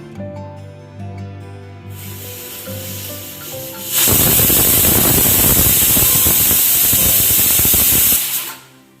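Pressure cooker on a home kitchen stove cooking vegetable pieces for avial, first quiet with music, then a loud sustained steam hiss bursting out for about four seconds before cutting off.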